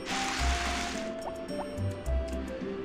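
Watering crops with a watering can in the Harvest Moon farming video game: soft splashing, dripping liquid bursts repeat a few times over steady game music, with no talk.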